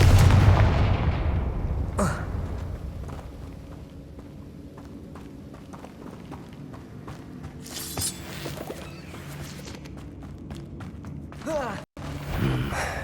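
The Confringo blasting spell in the video game Hogwarts Legacy: a heavy explosive burst at the start, then scattered thuds and rumbles of gameplay, with another sharp impact near the end.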